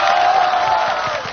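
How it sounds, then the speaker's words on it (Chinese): Studio audience on a Chinese variety show applauding and cheering to welcome actor Sun Tao, a brief loud burst of crowd noise with raised voices over the clapping. "让我们用热烈的掌声欢迎大家非常喜爱的演员孙涛"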